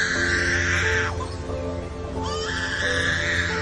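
A lyrebird's mimicking call: loud, harsh, rasping bursts with a layered, tonal quality, broken by a brief softer pause in the middle, close and continuous.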